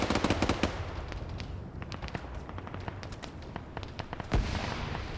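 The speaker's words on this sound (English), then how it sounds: "Grenades being thrown up by Zicky here to ensure they're dead. We got another grenade being thrown up" A grenade detonates in a Falklands-themed PvP shooter game, a heavier blast standing out near the end among rapid, sharp gunfire cracks and pops at moderate distance, with no speech.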